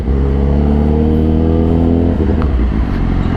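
A modified 2020 Kawasaki ZX-636 sportbike engine revs hard while being ridden, a loud, close, sustained droning roar that shifts pitch as it changes gear partway through, with no talk over it.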